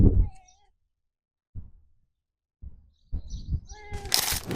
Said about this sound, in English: Meow for a yes.